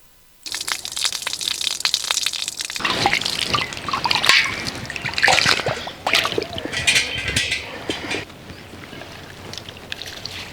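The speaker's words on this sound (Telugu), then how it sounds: "మనం నానబెట్టుకున్న బియ్యాన్ని ఒకసారి శుభ్రంగా కడుక్కొని రోట్లో వేసి రుబ్బేసుకుందాం" Soaked rice is ground with water in a stone grinder, a wet, irregular crunching and sloshing with drips that starts suddenly and continues close up, without any voice.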